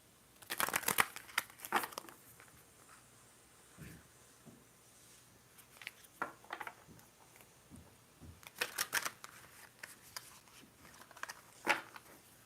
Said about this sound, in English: I love these cards. I love the way that they shuffle.